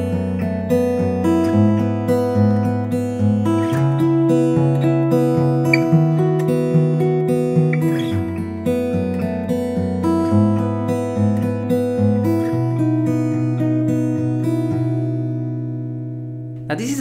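Guitar plays a slow chord progression built from one symmetrical chord shape moved to different positions, each chord struck clearly and left ringing, close and alone with no talking.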